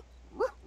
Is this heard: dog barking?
yes